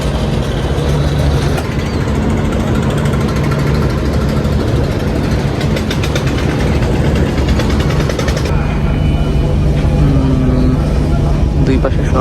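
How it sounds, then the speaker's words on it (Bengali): Passenger launch pulling away from Sadarghat terminal in Dhaka, its engine droning steadily and loudly throughout amid constant riverside bustle and distant voices. "সদরঘাট থেকে লঞ্চ ছেড়ে দিল।"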